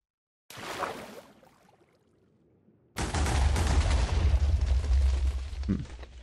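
Explosions from the Minecraft Explode mod: a short blast followed by a decaying rumble, then after a pause a much louder, sustained roaring detonation with a deep low-end rumble that persists to the end.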